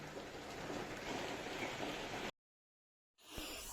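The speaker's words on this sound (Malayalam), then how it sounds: "ചായയെല്ലാം കുടിച്ച് നല്ല മഴ പെയ്തുകൊണ്ടിരിക്കുന്നുണ്ട്" Steady evening rain pours down as a broad, even hiss, continuous for a couple of seconds before cutting to silence, then resuming briefly with a few close drips.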